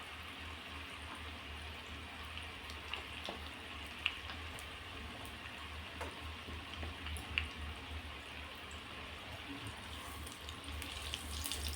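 Bhaji fritters frying in hot oil: a soft, steady sizzle and bubbling hiss, fairly faint and continuous, with occasional small pops.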